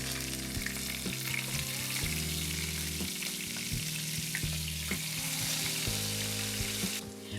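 Low carb chicken fried steak frying in a pan, a steady loud sizzle running throughout with occasional pops and clatters of stirring or flipping, no voices.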